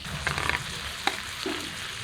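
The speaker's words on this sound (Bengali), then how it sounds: "এখন এই টমেটো করে দিয়ে আবারও নেড়ে চেড়ে ঢেকে দিব যাতে টমেটো গলে মাংসটা ভালোভাবে কষে যায়" Mutton stir-fried with tomato in a pan for mutton kosha, a short stretch of steady sizzling with a couple of sharp scraping stirs, close by and without talk.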